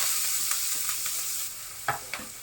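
Steady sizzling of mogri (radish pods) added to hot oil, with a couple of sharper crackling bursts toward the end; no voices.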